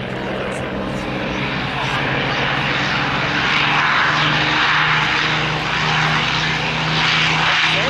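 Aircraft engine running at an airshow: a loud, steady propeller-engine drone that fills the whole stretch while an announcer speaks over it.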